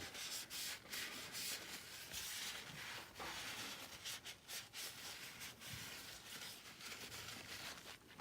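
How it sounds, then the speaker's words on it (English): Abrasive cloth or a pad scrubs and sands the edges of a copper water pipe fitting, giving close, continuous rasping strokes in a quick rhythm, with no voices. "Clean up all your little edges here."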